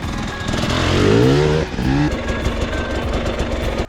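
A Chinese pit bike motorcycle engine revs on a motocross track, rising in pitch to a loud whine, dropping briefly, then picking up again in a rough, buzzing drone close by.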